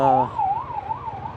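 An ambulance siren wails, rising and falling in a slow, steady cycle over low traffic rumble, fairly close and loud throughout.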